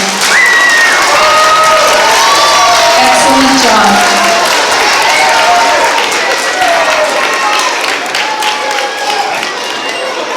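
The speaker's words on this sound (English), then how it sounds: "if we can please give them an extra special round of applause" An audience at an autism awareness event applauds and cheers, with clapping under excited shouting and children's voices, while a voice speaks briefly near the start.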